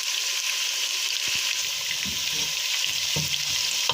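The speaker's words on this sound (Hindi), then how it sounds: "ज़ीरा ना प्याज के साथ ही हल्का सा फ्राई कर लेंगे" Cumin seeds frying with onions in a pot, a steady close sizzle with a few soft stirring scrapes and no talk.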